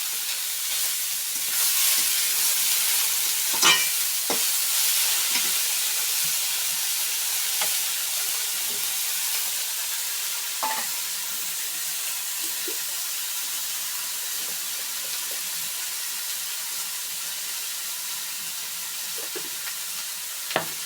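Vegetables with spices stir-fry in a pan for a home-cooked vegetarian dish, a steady close sizzle with scattered scraping and clinking strokes of the stirring spoon, no voices.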